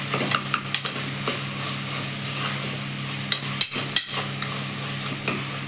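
A spoon stirring masala paste in oil in a metal pan for chicken gravy, giving scattered sharp scraping clinks against the pan over a steady low background hiss.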